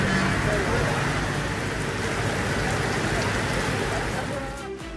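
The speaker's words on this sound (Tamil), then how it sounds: "நாமக்கல் சுற்றுவட்டார பகுதிகளில் பலத்த மழை பெய்தது." Heavy rain falls around Namakkal, a thick continuous roar of drops on surfaces, loud and close, with faint traffic noise underneath throughout.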